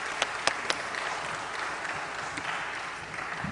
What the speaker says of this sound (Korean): 이제 나오실 때 한번 크게 박수해 주시면 감사하겠습니다.